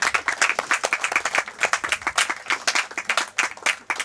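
Audience applause at a poetry slam, a dense burst of many hands clapping that carries steadily at full volume through the whole stretch, with no voices on top.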